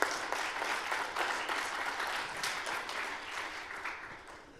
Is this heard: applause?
yes